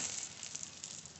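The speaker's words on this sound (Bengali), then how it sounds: "এবার ফোড়ন করে নেব মাছের ঝোলের জন্য। তেজপাতা, শুকনো লঙ্কা" Bay leaves and dried red chillies sizzle in hot oil, tempered as the base of a silver carp fish curry; a steady, close, hissing crackle that runs unbroken throughout.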